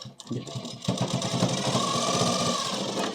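A sewing machine runs steadily up close, stitching the side-slit seam of a kurti, its motor whirring continuously after a brief start-up pause with fine rapid needle ticks throughout.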